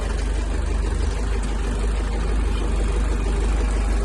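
A KATA tractor engine runs steadily at idle, a loud continuous low rumble with a faint knocking texture throughout and no talking.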